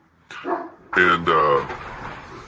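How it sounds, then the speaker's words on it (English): Dogs snarl and bark in short, loud bursts with whimpering yelps, a brief scuffle up close; a voice briefly speaks at the start. "that's my dog fighting with the other dog"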